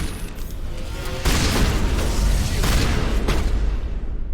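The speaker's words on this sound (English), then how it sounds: "Shotgun." Shotgun blasts in the sci-fi horror game Dead Space, heavy booming reports that strike near the start and again midway, each followed by dense rumbling noise, loud and close.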